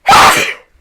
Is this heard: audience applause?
no